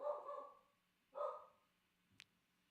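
A pet dog gives two short barks a second apart, faint and somewhat distant, followed by a small click in an otherwise quiet room.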